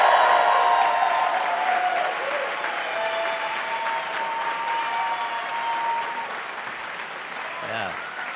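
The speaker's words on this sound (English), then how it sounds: "give a loud cheer if you believed in your graduates." Graduation convocation audience of friends and family at a university engineering ceremony cheering and applauding loudly, starting strong then settling into steady clapping and whoops, with faint whistles and scattered voices in a large hall.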